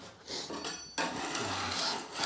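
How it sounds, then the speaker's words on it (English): A metal scraper rubs and rasps across an old wooden door about a century old, two short back-and-forth scraping strokes heard close up with no voices. "Use a scraper to try and find where they all are."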